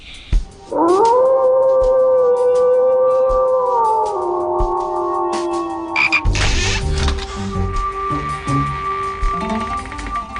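A person imitates a frog, letting out a loud, long, wavering croaking howl that slides down in pitch. A rougher, noisier sound and scattered clicks follow, with no talk.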